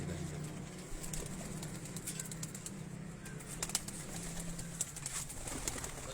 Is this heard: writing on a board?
no